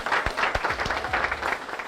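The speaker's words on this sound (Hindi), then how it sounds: "जोरदार तालियां।" An audience breaks into brief, lively applause, a dense burst of many hands clapping together for a couple of seconds with a few low thumps underneath.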